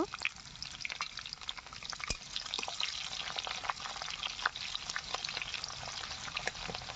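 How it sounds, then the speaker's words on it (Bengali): Chopped onions fry in oil with bay leaf in a village kitchen, a faint, steady sizzle broken by soft scraping and stirring clicks from close by. "তারপরে কুচিয়ে রাখা পেঁয়াজগুলো দিয়ে দিলাম। পেঁয়াজটা ভালোভাবে নাড়িয়ে নেব।"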